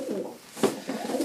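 A De Klak-Meulemans racing pigeon kept as a breeding bird coos in low, rolling phrases, two swells with a brief pause between, close by and without talk.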